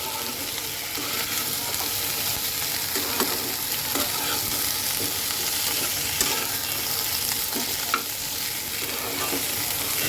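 Spices being stirred into a fish head and Malabar spinach curry, with steady sizzling frying and frequent spoon scrapes against the pan, loud and close, no talking.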